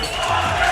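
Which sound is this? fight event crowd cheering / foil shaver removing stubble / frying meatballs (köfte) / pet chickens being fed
fight event crowd cheering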